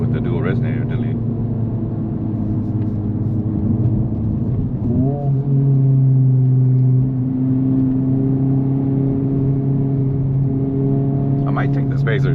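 A 2025 Honda Civic Type R exhaust with dual resonator delete drones steadily at low revs, the deep hum shifting pitch once midway, close and continuous throughout.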